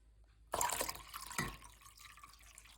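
Hot water pours into a container with a splashy rush, then a short second splash as the stream settles, close and fairly quiet.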